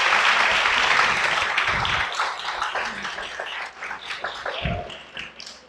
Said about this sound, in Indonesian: Tepuk tangan dulu untuk David.